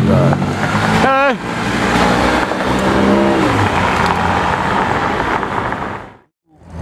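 A chalk-coloured Porsche GT4 sports car idles and rumbles nearby, with a quick rising rev early on. People talk excitedly over the engine before the sound briefly cuts out near the end.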